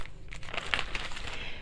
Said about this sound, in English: And then I just take a plastic bag.